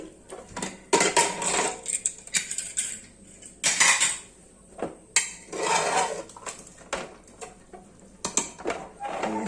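A metal pressure cooker holding chana dal with paneer being opened in a home kitchen, with scattered metallic clanks and scrapes of the lid and utensils, close and fairly quiet, in uneven bursts.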